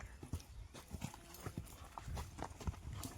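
Hooves of a Kathiawari horse clip-clop faintly on the ground in a village, a rapid uneven run of soft thuds heard at a distance.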